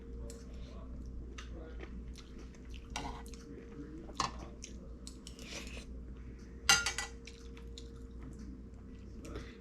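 Someone eating Thai-style mushroom curry soup with rice, with soft, close chewing and wet squishing sounds and an occasional sharper click over a low steady background hum.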